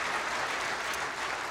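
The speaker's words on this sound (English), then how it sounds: "let's give him a clap" A church congregation gives a short, even burst of clapping from many hands for a young man who has just shared his testimony.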